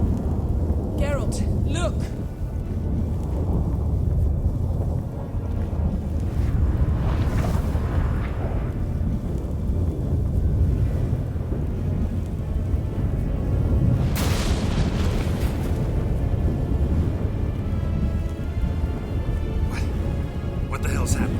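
Storm in Witcher 3, a continuous deep rumbling roar with rolling thunder swells and occasional crackling bursts, heavy and close throughout, with people talking over it.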